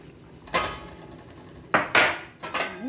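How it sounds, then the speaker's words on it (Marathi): A metal lid going onto a pot of vegetable kofta curry, with a few sharp clanks and rattles of metal on metal close by, separated by quiet pauses. "आणि झाकण देऊया."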